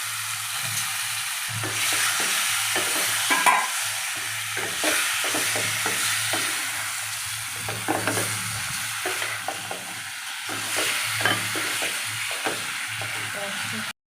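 Chunks of rohu fish, about a kilogram, fry in spice paste in a pan, giving a steady close sizzle broken by repeated scraping and stirring knocks over its whole length.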